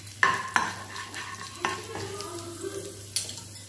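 Urad dal and mustard seeds crackling in hot oil in a pan for chutney, with soft frying beneath several sharp clinks and scrapes of a spoon stirring against the metal.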